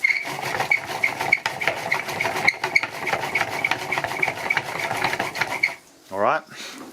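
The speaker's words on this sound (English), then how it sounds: "just by turning this little washing machine wheel over here" A small homemade generator built from a washing machine wheel being turned by hand, giving a rapid rhythmic whirring and clicking that runs steadily for several seconds and then stops, with a brief voice near the end.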